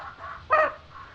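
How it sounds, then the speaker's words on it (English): Chickens clucking as a sound effect in the SoundPainter.io tabletop RPG audio tool, a soft continuous cluck bed with one louder, sharper cluck in the middle, heard alone. "But you can hear the chickens clearly now, right?"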